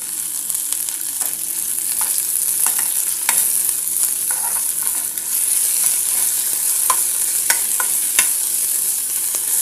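Mint leaves fry and sizzle in oil in a pan for a green chutney with peanuts, a steady bright hiss running throughout with scattered spatula scrapes and clicks as they are stirred, close and alone without talk.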